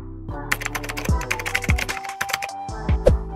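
Typing on the island keyboard of an LG Gram 17 laptop with a number pad, a steady close stream of light key clicks interspersed with heavier thocks, alone without speech.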